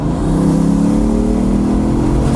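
A Bugatti supercar accelerating hard with its engine revving, a loud, steady close-up roar building over a couple of seconds with no speech over it.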